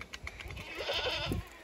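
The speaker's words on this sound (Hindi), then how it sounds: "अब बकरी पानी पी रही है, बड़ी प्यास लग रही है।" A goat in a rural Himachal yard gives a faint, short bleat at a distance among livestock, with quiet outdoor background noise.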